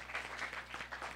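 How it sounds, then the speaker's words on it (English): A church congregation at a Sunday service gives a faint, brief patter of applause after a video is shown, soft and distant throughout. "Give him a round of applause again for that video."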